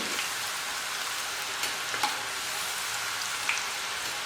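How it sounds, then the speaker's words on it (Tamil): Pumpkin pieces deep-fry in hot oil, giving a steady, dense hiss like rain with a few faint pops, close and continuous with no voices. "இப்போ நம்ம கட் பண்ணி வச்சுருக்கிற பூசணிக்காயை எண்ணெயில் போட்டு நல்லா ஃப்ரை பண்ணி எடுத்துடலாம்"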